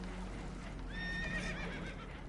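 Spooked horses aboard a boat taking on water in Red Dead Redemption 2. One sharp, shrill neigh rises midway over a constant rumble of water and movement, with faint hoof clops.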